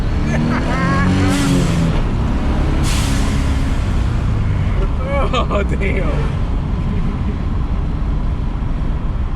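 A built turbocharged car engine revs hard on a dyno, a loud continuous roar with rising and falling pitch, with excited voices talking over it.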